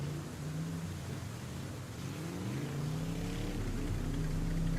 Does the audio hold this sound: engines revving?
yes